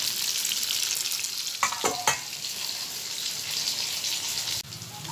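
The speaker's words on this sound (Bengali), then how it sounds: "দেখুন পটল ভাজা হয়ে গেছে" Pointed gourd (potol) slices frying in hot oil for a shrimp curry, giving a loud, steady, close sizzle throughout, broken by a few brief clattering stirs in the middle.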